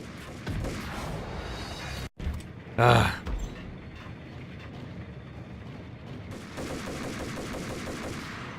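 An explosive barrel blasts with gunfire in the Max Payne video game, one sharp loud burst near the middle standing out over a steady, muffled game background, with a voice briefly present.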